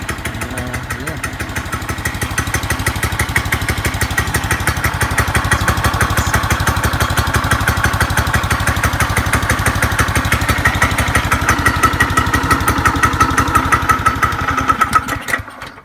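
Manco Vortex go-kart engine running just after a cold start on fresh oil and gas, a steady rapid putter that holds loud and even for about fifteen seconds before cutting off.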